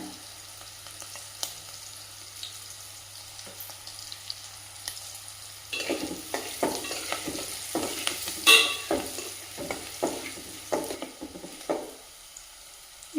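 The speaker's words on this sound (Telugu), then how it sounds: "శనగపప్పు మినప్పప్పు పల్లీలు ఈ మూడు వేసుకొని కొంచెం బ్రౌన్ కలర్ వచ్చేటట్టు గోలియాలి ఆయిల్లో" Chana dal, urad dal and peanuts frying in oil, a soft sizzle at first, then louder rattling stirs and scraping of a spoon in the pan with irregular clinks.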